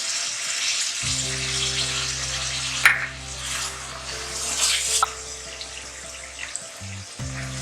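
Meat (gosht) sizzling in a pan with tomato paste and red chili powder, a continuous crackling hiss close by, over a steady low hum from a stove or cooker hood.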